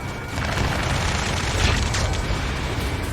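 Explosion of a destroyed enemy vehicle in the Ace Combat 7 combat flight game, a dense rumbling boom that swells after a brief onset and sustains loud, with crackling debris over a deep low roar.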